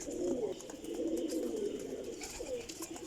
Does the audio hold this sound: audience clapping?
no